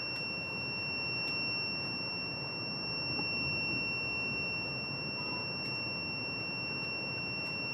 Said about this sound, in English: When the light is off, the beep sound is off